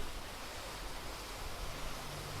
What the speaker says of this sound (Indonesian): Suara gemericik air, angin yang sepoi-sepoi, bener-bener membuat tenang